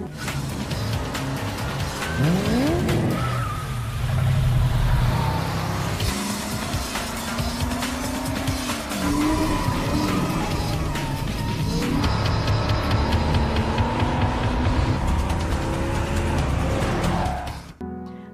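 Racing cars roar loudly through a race with tires squealing and skidding, engines revving and shifting pitch continuously for a long stretch, close and dense with no talk.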